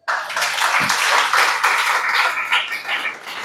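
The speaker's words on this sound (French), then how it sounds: "Applaudis pour toi." A crowd claps together in a dense burst of applause that stays strong for a few seconds, then begins to thin toward the end.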